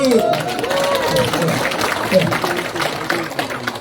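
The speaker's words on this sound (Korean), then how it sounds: "박수." An audience at the launch ceremony of a district boundary-change committee in Geumsan, Korea, breaks into dense, steady applause, a loud wash of clapping with voices mixed in throughout.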